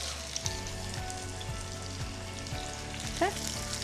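Panko-crusted salmon pieces frying in an oven-safe stainless steel pan, a steady close crackling sizzle with a faint low rhythmic thumping beneath and a brief squeak near the end.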